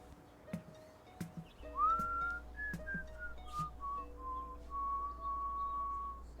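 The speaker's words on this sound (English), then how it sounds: "What's that you're whistling?" Someone whistles a slow, wandering tune softly and alone, with a few light taps and clicks early on and a faint low hum underneath.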